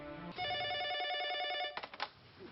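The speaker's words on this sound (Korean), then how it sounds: "1993년 12월 21일 전화 한 통이 걸려온다" A telephone bell rings loudly in one long continuous burst, then stops and gives way to a few brief handling clicks and knocks, as if the receiver is being picked up.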